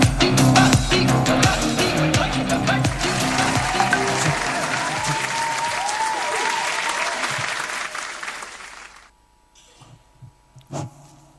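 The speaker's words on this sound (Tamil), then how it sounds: "மீண்டும் ஒரு முறை ஒரு கைத்தட்டல் கொடுத்து இந்த பட்டிமன்றத்தை ஸ்டார்ட் பண்றதுக்கு முன்னாடி" An audience at a Tamil May Day debate gathering applauds in a loud, dense burst of clapping lasting several seconds, then it fades out into near silence with a few scattered claps.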